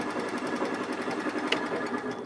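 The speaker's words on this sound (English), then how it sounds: "because I'm hitting screws right here, so I'm probably going to have to go up" Steady, fast rattling chatter as a lathe tool catches on screws in a spinning hollow form, loud and close, with one sharper knock about halfway through and no speech.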